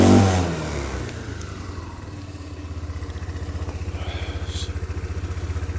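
A Chinese ATV engine, just rebuilt after being flooded, revs up and then settles into a loud, steady idle with a fast, even pulsing beat, close to the microphone and with no one talking.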